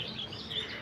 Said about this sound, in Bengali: চারোদিকে পাখির কিচিরমিচির ডাক